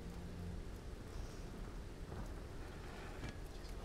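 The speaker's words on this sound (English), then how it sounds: "I still can't get over the fucking raindrops" Rain and raindrops fall in the video game Tomb Raider as a steady, dense hiss that holds through the whole stretch, with a faint low rumble underneath and no talk.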